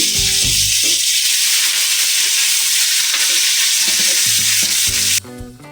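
Spice paste with tomato and a little salt fries loudly in a pan for an egg poach curry, a steady broadband sizzle with scraping stirs, easing off near the end.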